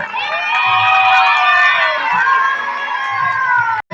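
Crowd at a Tamil youth association's silambattam martial arts event cheering and clapping in praise, loud shouts and children's voices swelling over continuous applause, cutting off abruptly near the end.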